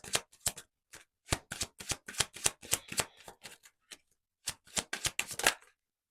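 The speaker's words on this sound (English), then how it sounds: "I'm going to keep shuffling so you get one card." Tarot cards being shuffled by hand: a series of crisp, close riffling and slapping bursts arrives in irregular clusters, separated by brief silences, with no voice over them.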